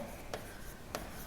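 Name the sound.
writing on a board during commerce lecture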